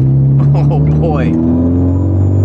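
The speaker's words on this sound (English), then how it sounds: "Listen to that thing sing. wastegate rattle." A turbocharged, modified Honda Civic Type R engine revs loud and close, its steady tone climbing and then holding, with a high turbo whine above it.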